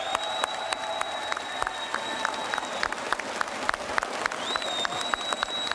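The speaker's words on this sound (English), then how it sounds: "Crowd going wild for veteran rewards" A crowd at a Rainbow Six Siege event erupts in steady applause and cheering that holds at an even loud level throughout, with scattered sharp claps and shrill whistle-like tones rising above the roar.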